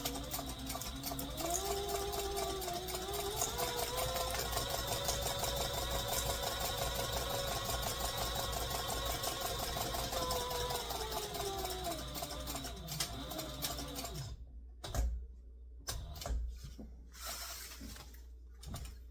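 A sewing machine runs in one long steady stitching burst with a rising and falling whine, then stops, leaving a few short clicks and handling sounds.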